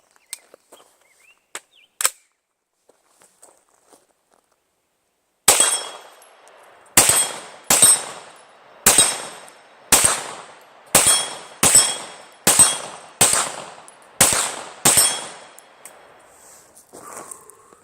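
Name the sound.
Extar AR-style pistol being fired at the range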